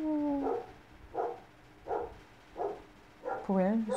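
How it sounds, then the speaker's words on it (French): Dogs bark indoors, a string of evenly spaced barks, moderately loud, with a brief voice at the start and end of the sequence. "J'ai mes chiens qui aboient en plus."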